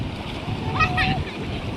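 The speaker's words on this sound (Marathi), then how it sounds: "हे बघा लाटा येत आहेत जोरा जोराने." Strong sea waves break and splash at Chinchani beach, a close rushing surf with rising surges, while voices talk over it.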